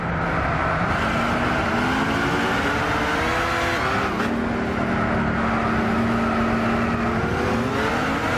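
Ford GT race car engine in Gran Turismo 6 on a rain-soaked circuit, a loud continuous drone whose pitch climbs and shifts through gear changes, close and steady throughout with no talking.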